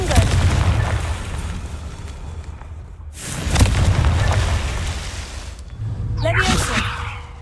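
Confringo blasting-spell explosions in Hogwarts Legacy: two heavy booming blasts, one at the start and another about three seconds later, each rolling off slowly, then a fainter crackling burst near the end, with voices faintly underneath.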